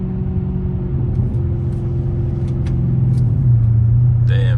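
Steady low engine drone and road rumble from a 478hp all-wheel-drive Dodge Charger R/T cruising at night, the pitch rising slightly as it accelerates, with a brief faint chime near the end.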